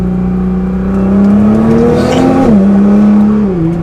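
600 WHP Nissan R35 GT-R Premium accelerating in second gear, a loud, close engine drone whose pitch climbs steadily, dips briefly at a shift-like break, then rises again with exhaust roar throughout.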